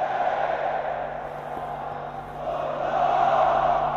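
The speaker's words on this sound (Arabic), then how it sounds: "تشجيع حار من مدرجات النادي الاهلي." Al Ahly supporters fill the stands with a steady, loud roar of crowd cheering at an African volleyball championship final against Mouloudia Bousalem, swelling further toward the end.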